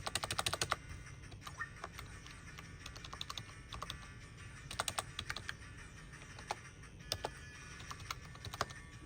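Keys clacking on a computer keyboard while navigating a RetroArch arcade setup, bursts of sharp clicks scattered irregularly over a steady low hum, fairly close.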